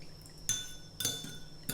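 Fish sauce dressing for a beef salad stirred in a bowl with a utensil, giving three sharp clinks against the bowl with quiet pauses between them, close and fairly soft.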